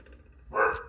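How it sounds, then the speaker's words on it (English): A puppy gives a single short, sharp bark near the mic after a moment of quiet. "Puppy's barking."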